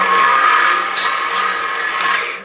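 A well-worn power drill runs in one loud, continuous whine with a steady motor hum, keeping a constant pitch before winding down at the end, with no voices over it.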